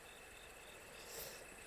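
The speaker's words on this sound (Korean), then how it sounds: "귀뚜라미 울음소리" Autumn crickets chirp steadily in a mountain valley in Samcheok, Korea, a faint, continuous high-pitched trill with a soft background hiss.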